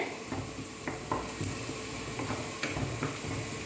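Onions frying in a pan while being stirred, a steady sizzle with scattered scraping and tapping clicks from the spoon, close and moderately quiet.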